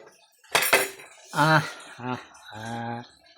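A ladle scoops cooked rice from a pot, giving a few light metallic clinks and scrapes against the rim, with a voice sounding close by between them.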